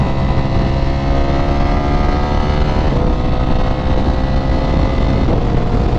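A Ducati Panigale V4S motorcycle engine, loud and close with heavy wind rush, runs through rising pitch sweeps as gears change while riding.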